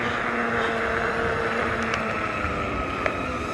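Two small DJI drones, a Flip and a Neo, fly together outdoors, giving a steady, loud whirring drone with a continuous high propeller whine mixed with wind rush and no breaks.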